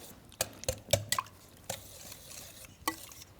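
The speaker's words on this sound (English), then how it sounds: "you'll take a whisk and mix it all together until it's smooth" A whisk clinks and stirs through a pumpkin pie mixture with eggs and cinnamon in a bowl, several sharp taps against the sides spaced irregularly over soft liquid sloshing, close and moderately quiet.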